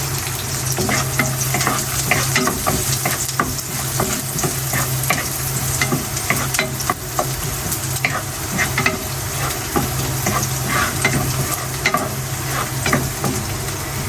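Garlic sautéing in a hot pan for pancit, a loud, steady sizzle with continuous stirring and scraping of a utensil against the pan throughout, close and uninterrupted.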